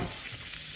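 Sliced bell peppers and onions sizzle in a pan for cheesesteak filling, a brief, even, quiet frying hiss with no voices.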